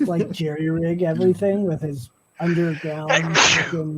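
A person sneezes once, sharp and close, near the end of a short stretch of casual conversation among several people.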